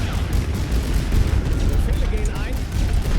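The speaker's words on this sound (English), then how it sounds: "Come on, mortars, do your job" Mortar fire in the WWI strategy game The Great War: Western Front: a dense, continuous wall of rumbling booms and blasts rolls on without pause, heavy and low, like a sustained distant barrage.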